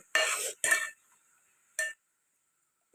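A utensil clinks and scrapes against a pot in a few short separate bursts, with quiet gaps between them, while dried fish is stirred into tomato curry.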